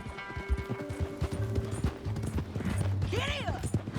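Horse hooves clip-clop in a steady trot in Red Dead Redemption 2, with tack creaking and a brief neigh near the end, close and clear.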